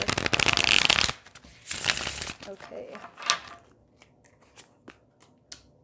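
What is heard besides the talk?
shuffling tarot cards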